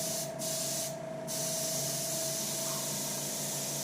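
An airbrush sprays black dye onto leather with a close, steady hissing rush that barely breaks, dipping only for a couple of brief moments near the start.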